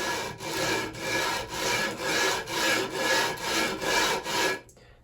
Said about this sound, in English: it's a matter of running the leveling beam across the tops of the frets